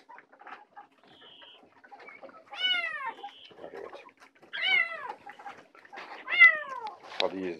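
A kitten meows three or four times, high and insistent, with faint rustling and soft background noises between the calls.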